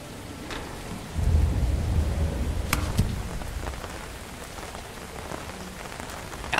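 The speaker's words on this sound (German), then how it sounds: "It's raining. I'd better get the umbrella." Steady rainfall with a low rumble of thunder in an indie horror video game, a dense constant patter that swells louder after the first second and holds, with no voices over it.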